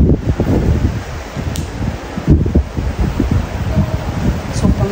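Strong wind roars steadily against the microphone inside an abandoned castle with broken windows, with a loud, rough rumble and rustling gusts throughout. No one speaks.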